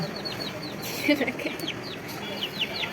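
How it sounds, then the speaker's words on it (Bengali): Young chickens chirp and cluck softly in a small backyard coop, several faint repeated calls scattered through quiet background with brief thumps, no talking. "এই যে আমাদের একটা মুরগি বাচ্চা ছোট বাচ্চা কিনে এনেছিলাম"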